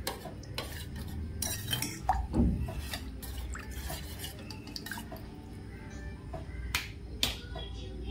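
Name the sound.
stirring kheer with dry fruits and milk in a pot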